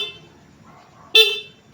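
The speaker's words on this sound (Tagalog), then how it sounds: "Ito yung kanyang stock na busina." A car's stock horn sounds once with a single short press, a sharp bright honk lasting a fraction of a second after quiet idle.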